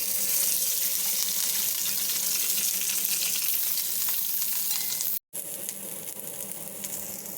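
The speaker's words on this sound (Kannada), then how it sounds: "ಈರುಳ್ಳಿ ಹಾಕ್ಕೊಳ್ಳೋಣ ಒಂದು ಸ್ವಲ್ಪ ಎಣ್ಣೆ ಹಾಕ್ಕೊಳ್ಳೋಣ ಫ್ರೈ ಆಗೋಕ್ಕೆ" Onions frying in a little oil in a pan for a chickpea curry, a continuous loud hissing sizzle with a brief dropout near the end before it resumes, no voices.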